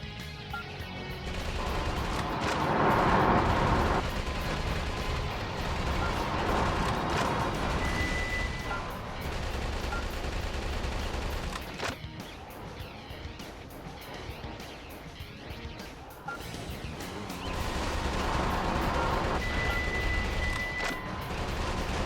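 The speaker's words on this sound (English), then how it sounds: "with missiles of that caliber, if you aim and fire, you should be able to easily shoot them down" Sustained heavy gunfire and explosions from the video game Metal Wolf Chaos as missiles are shot down, a dense, loud barrage of blasts and rumbling impacts continuing throughout with no speech.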